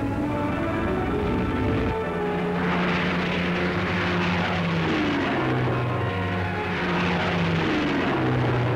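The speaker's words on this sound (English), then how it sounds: "The drone of the multi-motored bombers roars to a crescendo." Multi-motored bomber aircraft engines drone loud and steady, a dense sustained roar with shifting pitch that keeps up for the whole stretch and swells in places, with no voices over it.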